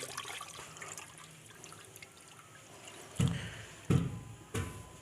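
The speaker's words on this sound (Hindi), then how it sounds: "आहिस्ता आहिस्ता पानी डालना है आपने। ये हम पानी और डालने लगे हैं।" Water trickles slowly into a container holding a mixture with baking soda for a chemical reaction, a soft continuous pour broken near the end by three short, louder splashing bursts.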